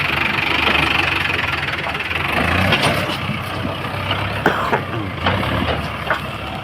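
A four-wheel-drive tractor engine runs close by, a loud, rough rumbling with knocking, and a few sharp clanks over the noise.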